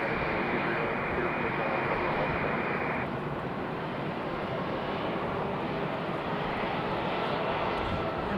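A JetBlue airliner in new livery roars steadily at Raleigh-Durham International Airport, a loud continuous jet engine rush filling the whole stretch, easing slightly partway through.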